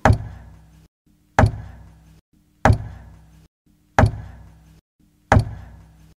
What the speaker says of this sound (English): Matt could hear a regular knocking